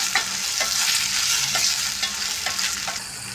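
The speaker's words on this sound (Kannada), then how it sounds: "ಆಲೂಗಡ್ಡೆ ಹಾಕಿ ಫ್ರೈ ಮಾಡ್ಕೊಳ್ಳಿ ಕೆಂಪುಗಾಗೋವರೆಗೂ" Potatoes fry in a hot pan until reddish, giving a close, continuous sizzle punctuated by regular scraping stirs of a spatula roughly every half second, with no voices.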